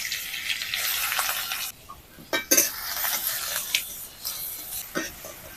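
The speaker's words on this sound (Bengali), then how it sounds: "তেলে দিয়ে দিচ্ছি পেঁয়াজ কুচি, কাঁচা লঙ্কা কুচি, রসুন কুচি," Chopped onion, green chilli, garlic and ginger hit hot oil in a wok, giving a bright continuous sizzle close up, with metal spatula scrapes and clinks as they are stirred.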